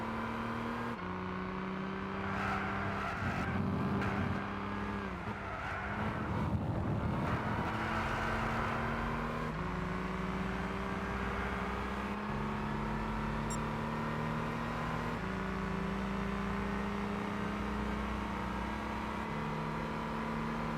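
A BMW race car in Gran Turismo 6 roars steadily through its gears, the engine note climbing and dropping with shifts along a straightaway, loud and continuous with no talk.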